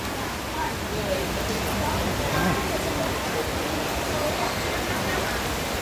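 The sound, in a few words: heavy rain outside a vegetable market in Guangzhou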